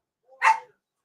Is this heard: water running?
no